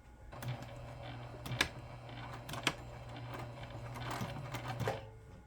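Sewing machine running steadily at a lengthened stitch while sewing a long curve on a fabric bag, a close, even mechanical hum with light clicks and ticks over several seconds, no talking.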